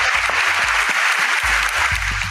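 Studio applause from a small group on a podcast, steady dense clapping lasting the whole moment at moderate loudness, with no voices over it.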